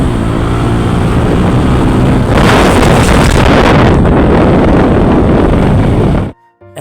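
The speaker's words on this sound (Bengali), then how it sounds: "এটা হচ্ছে আমাদের বাইকে টান তোলার সময় শব্দটা" A motorbike on a road ride accelerates with a loud, steady engine roar that is heavily buffeted by wind rushing over the microphone, swelling partway through, then cutting off abruptly near the end.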